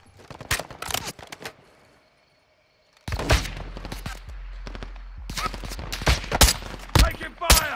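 Bursts of gunfire in a Call of Duty game: sharp, loud shots in quick clusters, then a short silence before heavier rapid fire resumes over a deep rumble.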